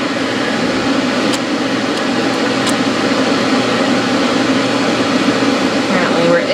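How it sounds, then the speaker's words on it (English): A blow dryer runs steadily and loudly throughout, a constant broadband whoosh while drying a show poodle's coat, with faint brief clicks and no talk. "You just move your dryer around until you feel that you can reach everything."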